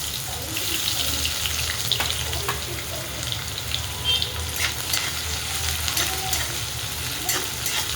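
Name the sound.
peanuts, sesame and chopped onion frying in a pan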